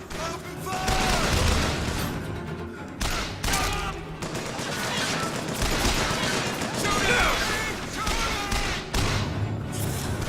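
Dense bursts of gunfire in the video game Bioshock Infinite, with rapid overlapping shots and thuds forming a continuous loud barrage and only brief lulls, mixed with voices shouting during the fight.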